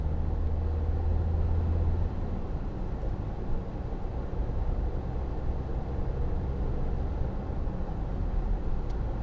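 A 2014 Volkswagen Tiguan 2.0 TDI cruises along with a steady low engine drone and road rumble heard from inside the cabin.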